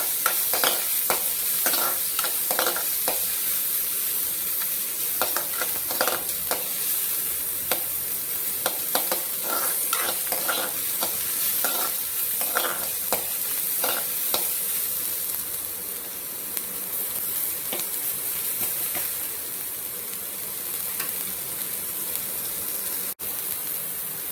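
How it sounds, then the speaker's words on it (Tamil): Dried red chillies and finely chopped shallots sauté in hot oil with a constant close sizzle, broken by frequent scraping stirs of a spoon against the pan, with no one speaking. "மிளகாய் வத்தல், சின்ன வெங்காயம் பொடியாக கட் பண்ணது எல்லாத்தையும் சேர்த்து நல்லா வதக்கிக்கலாம்."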